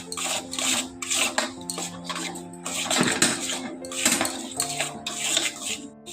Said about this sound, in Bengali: দেখুন এইভাবে যতক্ষণ না পর্যন্ত গুড়টা চিট হয়ে আসে আমি নেড়ে যাব